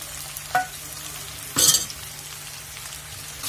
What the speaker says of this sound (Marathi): हे बटाट्याचे सगळे स्लाइस घालून घेणार आहोत